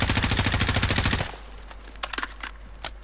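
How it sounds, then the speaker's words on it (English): Rapid automatic gunfire in Call of Duty Warzone, a loud close burst of evenly spaced shots for about a second, followed by scattered fainter distant shots. "I was shooting them"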